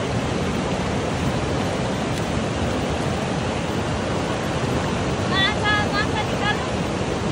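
A river rushes past its bank in a loud, continuous wash of water noise, with faint bird chirps near the end.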